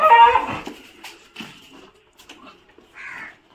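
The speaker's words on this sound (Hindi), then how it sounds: "ग्रिप लगा के कैसी आवाज़ें निकाल रहे रोलेक्स" A young dog whimpers and whines in high, nasal bursts while gripping with its mouth, loudest at the start, then fainter intermittent whines with scuffling between them.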